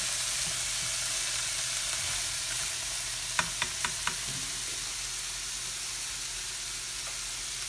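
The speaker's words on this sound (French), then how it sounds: "en train de les cuire, de les saisir des côtés" Pad thai ingredients sear and fry in a hot pan with soy sauce and their own juices, giving a steady, close broadband sizzle throughout, with a quick cluster of sharp utensil clicks near the middle.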